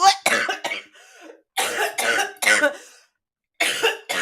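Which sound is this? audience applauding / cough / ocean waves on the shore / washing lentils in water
cough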